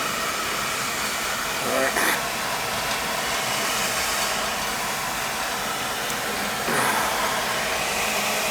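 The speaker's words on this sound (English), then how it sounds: "You can hear the cold oil in this thing" Oil burner on a boiler running on cold oil during a freezing no-heat service call: a loud, continuous roaring rumble with a rough texture, and a voice speaks briefly over it.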